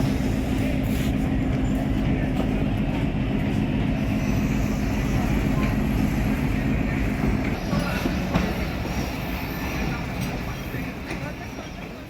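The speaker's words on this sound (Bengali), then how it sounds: "এখন আপনারা যে ট্রেনটি দেখছেন এটি টুঙ্গিপাড়া এক্সপ্রেস" Tungipara Express train running through Poradah railway junction in Bangladesh, a loud continuous rumble of wheels and carriages close by with rhythmic clatter, fading slightly toward the end.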